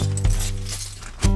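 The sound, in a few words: Lego bricks being swept up, clinking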